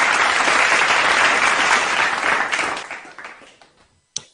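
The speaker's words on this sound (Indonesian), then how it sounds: "Boleh kita beri tepuk tangan" An audience at the Kartini Millennial Awards 2022 ceremony applauds an award winner with loud, dense clapping that gradually thins and fades out, ending with a single sharp sound at the close.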